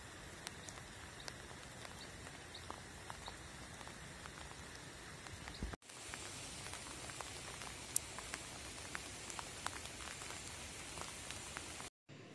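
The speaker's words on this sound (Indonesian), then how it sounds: "karena sedang gerimis jadi view-nya seperti ini ya banyak kabut dan ada butiran-butiran hujan yang turun" Light drizzle falls at the Wonorejo reservoir in Tulungagung on a misty day, a steady soft patter of raindrops with scattered sharper drips, continuous and close, with a brief dropout midway and near the end.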